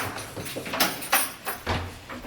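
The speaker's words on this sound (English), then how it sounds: "opening a door for us" A theatre door in the corridor behind the auditorium boxes is opened, giving a few soft knocks and a low scrape with a faint latch click, close by and with no voices.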